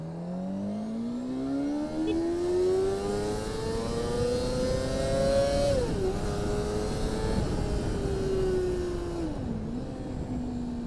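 A Honda CBR 250 motorcycle engine revs hard and alone, its pitch climbing steadily through the gears with two brief dips at the shifts, loud and close throughout.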